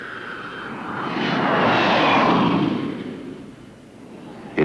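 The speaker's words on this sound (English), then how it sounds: "But noise from our jets was here before it came." Jet airliner passing overhead, a broad roaring engine noise that swells from moderate to loud, peaks, then fades away, with no talk.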